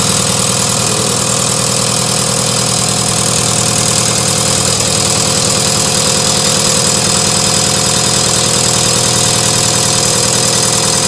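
A VP44 injection pump runs on a test bench at set speed, a loud, steady mechanical drone with a dense whirring hum that holds unchanged throughout.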